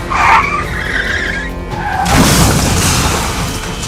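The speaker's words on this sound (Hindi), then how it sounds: "राजस्थान के पाली में अनाज से भरा एक ट्रक हाईवे पर पलट गया" Tyres skid and screech as a grain-laden truck sways on a highway in Pali, Rajasthan, and overturns. A loud, close, drawn-out squeal is followed by a heavy rumbling crash of scattering load.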